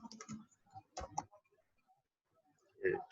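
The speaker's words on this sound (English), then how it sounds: "I'm also typing on an elevated keyboard, so my typing is not as proficient as normal" Typing on a computer keyboard propped up in an elevated position, with scattered clicky keystrokes in short bursts, pauses between them, and a louder cluster of key presses at the end.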